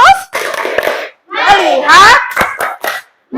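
Schoolchildren perform a rhythmic focus clap in class, sharp hand claps landing in a quick pattern between chanted children's voices, close and loud.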